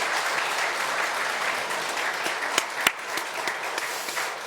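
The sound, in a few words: congregation applause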